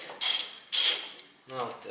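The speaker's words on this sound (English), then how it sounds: "when I open these bolts, they are not very tight" A hand tool loosens bolts on a 1990s Toyota Corolla intake manifold, giving three short metallic ratcheting bursts separated by brief pauses, close and fairly quiet.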